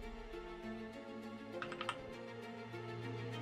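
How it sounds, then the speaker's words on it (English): Quiet typing on a computer keyboard during a tabletop role-playing session: a short burst of several soft key clicks over a low steady background hum, with no voices. "Sorry, I was typing."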